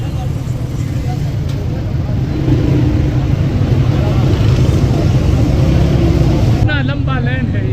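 Heavy road traffic in a jam, with a continuous low engine rumble of idling and slow-moving vehicles, closing with a sharp horn-like tonal burst.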